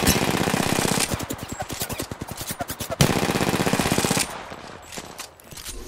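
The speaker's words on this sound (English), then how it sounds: "All right, shots fired" Automatic gunfire in Apex Legends plays as rapid bursts of loud, closely spaced shots, with a pause and a second burst before it fades out.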